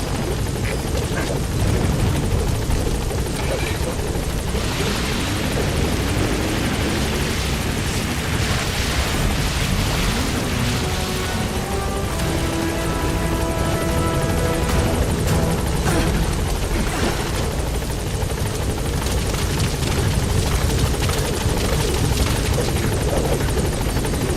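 A support helicopter arriving in the video game Metal Gear Solid V: The Phantom Pain, its rotor thumping loudly and continuously throughout with low rumbling booms mixed in.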